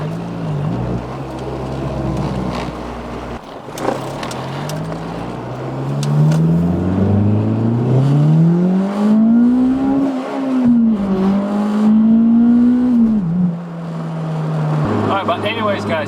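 Acura RSX Type S fitted with a stage 1.5 clutch, driving off and accelerating through gears, with steady engine and road drone that rises and shifts in pitch, loud and close throughout.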